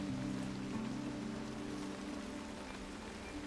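Steady rain falling on a surface, a dense even patter with low rumbling hum underneath, continuous and fairly quiet throughout.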